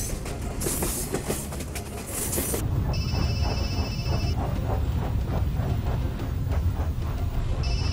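A speeding train rumbles loudly and steadily on the tracks in a movie scene, with a continuous rolling roar and brief high, tonal squeals or whistles over it.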